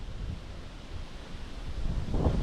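Wind gusting across a wild lake, a steady rumbling buffet on the microphone that swells louder toward the end, with no voices.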